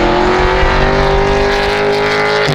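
A Roadster Shop Road Rage Camaro with a 750 hp naturally aspirated engine and long-tube headers roars loudly and close, holding a high, steady exhaust note before it drops off at the end.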